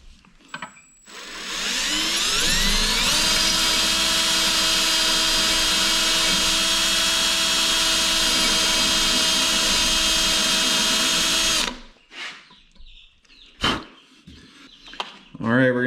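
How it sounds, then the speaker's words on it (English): A power drill bores into a part of a Honda Big Red 250es ATV during restoration, a loud steady high-pitched whine held for about ten seconds, then stopping, followed by scattered handling clatter. "Got to drill down further."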